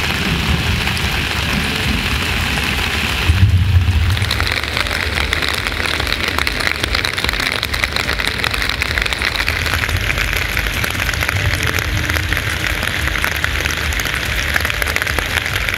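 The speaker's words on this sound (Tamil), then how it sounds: "தற்போது பெய்த கனமழையால் தங்கவேலுபுரம் வெள்ளக்காடாக காட்சியளிக்கிறது." Heavy rain in Thangavelupuram, Tamil Nadu, during Cyclone Ditwah, a dense continuous hiss of downpour with a low rumble underneath, steady and loud for the whole stretch, with no speech.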